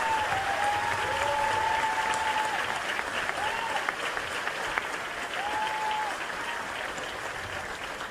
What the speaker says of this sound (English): Let's give these men a round of applause, please.